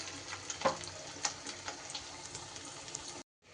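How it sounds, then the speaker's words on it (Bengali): Fish roe fritters frying in oil in a wok give a soft, steady sizzle with a few small pops and clinks, close and fairly quiet, with no talking. "আমার প্রথম ব্যাচের বড়াগুলো ভাজা হয়ে যাওয়ার পর দ্বিতীয় ব্যাচেরগুলো কিন্তু আমি বাকিটা কড়াইতে দিয়ে দিয়েছি"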